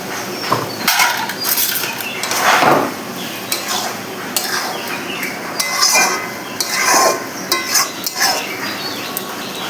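Spoon scraping and stirring masala spices as they fry in a pan for a Bengali egg and potato curry, with steady repeated scrapes, clinks and a soft sizzle, close and fairly loud with no talking.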